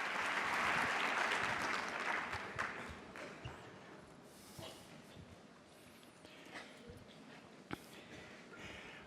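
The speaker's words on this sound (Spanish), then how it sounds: "Fuerte aplauso para Nando García." Applause from a conference audience at an education congress fills the room loudly at first, then thins into scattered claps and fades, with a few isolated handclaps near the end.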